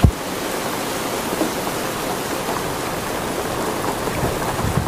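Heavy rain pours as a dense, steady hiss with a low rumble of thunder beneath it, opening with a sharp crack and continuing without any voices.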